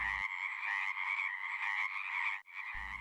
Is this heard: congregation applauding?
no